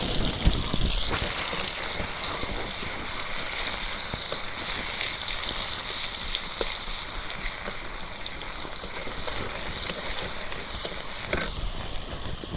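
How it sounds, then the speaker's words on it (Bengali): Chopped onion fries in hot oil for a curry, giving a constant loud sizzle and hiss, with occasional stirring and scraping in the pan throughout. "তেল গরম হচ্ছে এখন পেঁয়াজ কুচি দিয়ে দেই"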